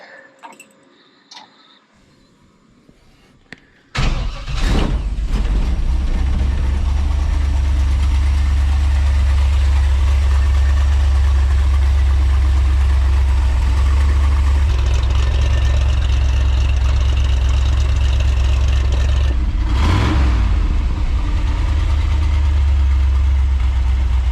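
A 1971 Toyota FJ40 engine with a high-flow catalytic converter exhaust starts up and settles into a steady, loud, deep idle that runs continuously up close, with a brief rev swell partway through.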